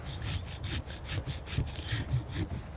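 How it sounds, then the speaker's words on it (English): Close, rhythmic back-and-forth sawing of a new tool cutting through a coneflower root while dividing perennials, with steady strokes of about four per second and a rough, woody rasp, no talking. "Josie's cutting through the root."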